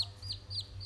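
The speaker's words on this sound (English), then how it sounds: "four baby chicken" Baby chicks peeping in quick repeated high chirps, with a hen clucking softly underneath, close and fairly quiet during hatching, no talking.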